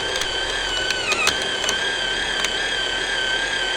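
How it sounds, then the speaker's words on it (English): The wire feed mechanism of a Harbor Freight Titanium 125 MIG welder runs on its cold feed button, giving a steady close mechanical whir with a high tonal whine and a few light clicks and rattles, no voices. "all we have to do is feed wire, and we'll use this cold feed button that's right here"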